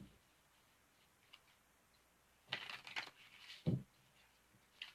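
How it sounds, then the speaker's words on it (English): Tarot cards being shuffled by hand, a few quiet riffling and tapping bursts in the middle against a faint, near-silent room, with one sharper card snap near the end. "just shuffling up a couple more times here."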